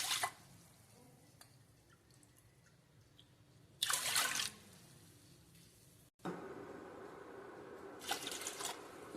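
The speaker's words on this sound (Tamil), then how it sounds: "இப்போ நம்ம 3 கப்பு தண்ணி விட்டாச்சு." Water is poured into a pot of rice and lentils in several close bursts: a quick splash, a short gush, then a longer steady pour, with quiet kitchen background between them.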